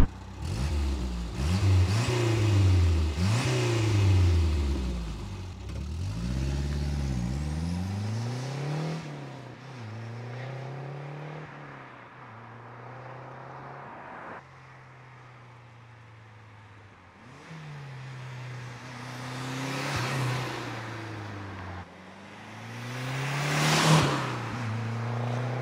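A Renault 5 GT Turbo engine revs hard several times, rising and falling in pitch, then idles low before two more loud revving bursts near the end during launches.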